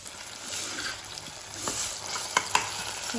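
Soft tomatoes sauté in a pan, a faint continuous sizzle with a spatula stirring and scraping now and then, including two sharper clicks near the end, with no talking.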